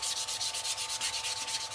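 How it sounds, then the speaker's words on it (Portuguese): Painted MDF board is sanded by hand with steady, rhythmic back-and-forth rasping strokes, about six per second, loud and close with no voices. "Eu vou dar uma lixada pra vocês verem aqui nessa peça como é que fica"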